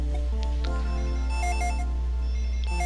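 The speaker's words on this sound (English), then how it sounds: "The phone is ringing in the living room." A telephone rings in the Dragon Ball Z: Legacy of Goku 2 video game, its electronic ringtone beeping in short tonal bursts over constant low game music, with no talking.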